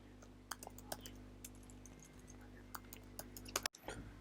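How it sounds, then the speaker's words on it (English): Quiet keyboard typing at a computer, a scattering of soft irregular key clicks over a low steady hum, with one sharper click near the end. "So we're just going to type that out."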